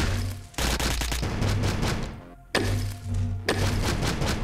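Rapid bursts of SMG fire in the sci-fi shooter game Astroswarm, loud and close, with several rattling volleys separated by short gaps and no talking.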